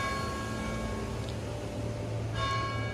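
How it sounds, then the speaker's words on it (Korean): A church bell tolls the hour in Switzerland, its sustained ringing tone hanging steadily at a distance with a fresh strike near the end, over faint background hum. "방금 종소리 들리셨죠?"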